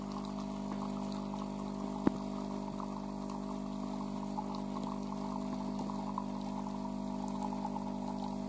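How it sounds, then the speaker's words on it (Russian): A Philips EP5444 LatteGo coffee machine hums steadily as it pours coffee, a continuous pump-like drone with a faint liquid trickle and one small click. "Сейчас вот кофе должно начать литься."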